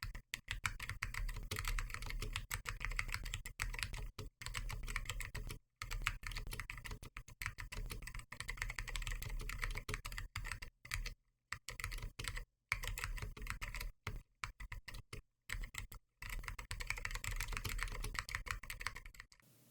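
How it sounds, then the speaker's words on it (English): Steady, fast typing on a clicky mechanical AEK64 keyboard fitted with ALPS stabilisers, keys clattering continuously with short pauses, close and fairly crisp. "Here's a short typing test."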